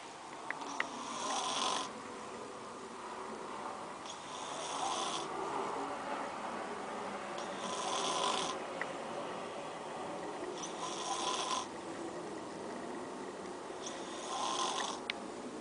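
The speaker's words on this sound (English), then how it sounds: "witness the snoring" Person asleep and snoring in a room, slow rhythmic breaths roughly every three seconds, each a rasping drawn-out snore at moderate distance, with no talk over it.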